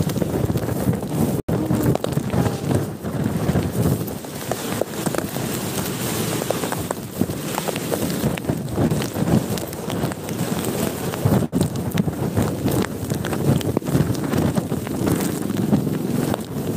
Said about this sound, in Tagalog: Mas pa rin ang hangin, ha.